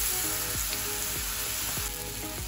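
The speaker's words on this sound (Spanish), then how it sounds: "Vamos a dorar nuestro plátano." Plantain slices fry in hot oil for mole, a loud, dense sizzle that holds steady throughout, with faint background tones underneath.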